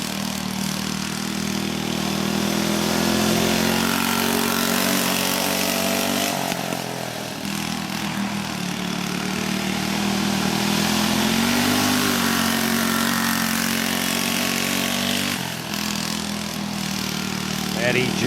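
A small go-kart engine drones continuously through a backyard time trial lap, running loud and near with its pitch rising and falling through the corners and short dips as the throttle lifts.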